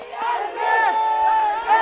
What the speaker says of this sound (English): Understandably, the crowd is overjoyed.